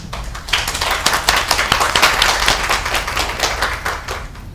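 Audience applause closing a Korean community meeting, a village self-governance activity sharing session and residents' participatory budget regional meeting; dense, steady clapping from a crowd indoors, fairly loud and sustained for several seconds with no talk.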